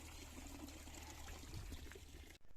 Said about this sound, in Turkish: Güzel bir çeşme bakınız böyle.